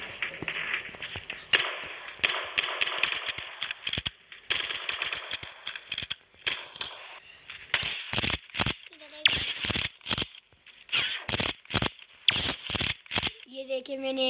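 Rapid gunfire in a shooting video game comes as a dense burst of sharp cracks, then slows into separate spaced shots, each loud and crisp.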